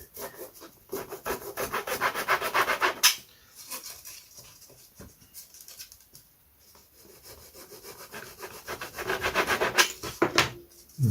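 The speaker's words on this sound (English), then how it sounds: "Give that a quick sand." Sandpaper rubs back and forth on a wooden part of a vintage model aircraft in quick rhythmic strokes, close and clear, with pauses between bursts.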